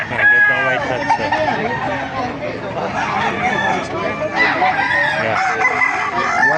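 White hats fighting roosters crow repeatedly at a busy chicken market in Baliuag, Bulacan, loud and close, with clucking fowl and people talking around them.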